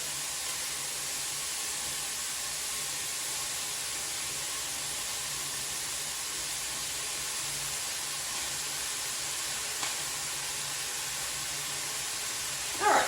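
Ground beef browning in a big pot on a stovetop gives a steady, even sizzle and hiss that runs throughout, with a brief louder crackle near the end.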